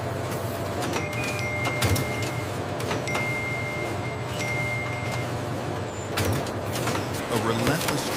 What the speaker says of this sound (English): A relentless stream of perfectly separated stems ensures the dicing machine operates at peak capacity